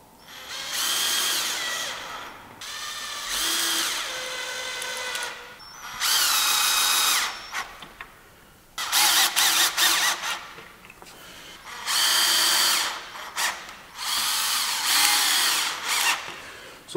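Cordless drill driving 3.0 x 20 universal screws into wood, five or six loud whirring bursts of a few seconds each with short pauses between, close and alone with no talking.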